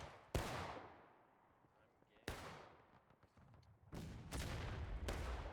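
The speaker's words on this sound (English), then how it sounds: "Artillery." Artillery fire in a video game, with heavy booming blasts and long rumbling decays, three spaced impacts followed by rapid overlapping explosions, loud and close with no talking.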